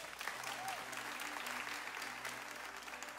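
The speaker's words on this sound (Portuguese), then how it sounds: "vamos aplaudir ele mais uma vez?" A church congregation applauds Pastor Eric with a faint, distant, steady wash of clapping under a low background hum.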